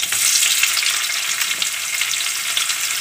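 Onions frying for chicken chop suey, a steady loud sizzle in a hot pan with bright crackling and a few stirring scrapes throughout, no voices.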